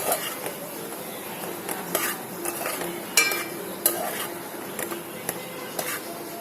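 Onion mixture being stirred in a pan for an egg bajji, a steady scraping and sizzling texture with occasional sharper spoon knocks against the pan, alone with no voices.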